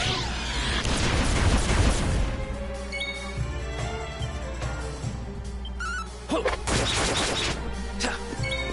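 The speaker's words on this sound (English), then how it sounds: "Explosion!" An explosion in the video game Dragon Quest XI S erupts as a dense, loud burst of crashing, crackling blasts over the first two seconds, followed by lingering game sounds and a second sharp flurry of impacts near the end.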